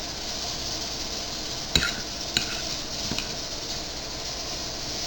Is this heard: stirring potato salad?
yes